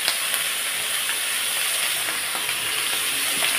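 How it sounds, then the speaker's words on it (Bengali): Vegetables fry with salt in a pan for a light mourola fish curry, producing a loud, steady hissing sizzle that stays even and close from start to end, with no speech. "তো দেখো ভাজতে ভাজতে সবজিগুলোকে আমি বেশ সুন্দর লাল করে নিয়েছি"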